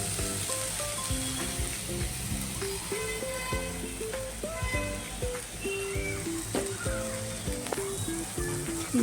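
Soaked chana dal frying in a little oil with asafoetida, a continuous soft sizzle under intermittent tonal clatter and stirring, close and steady with faint background voice.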